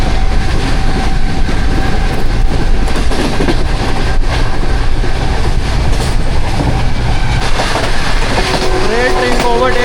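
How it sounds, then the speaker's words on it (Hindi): A passenger train on the Karachi to Lahore route overtakes another train at Liaquatpur station, its loud, close rumble and clickety-clack of wheels filling the scene, with a faint squeal of wheels toward the end. "रेल ट्रेन को ओवरटेक कर रहे हैं लियाकतपुर रेलवे स्टेशन पे।"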